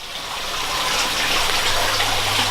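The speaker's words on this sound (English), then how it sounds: "this is the mineralization tank bubbling away" Water bubbles and trickles steadily in a backyard aquaponics mineralization tank, a close, continuous gush that swells slightly louder over a few seconds with no voices.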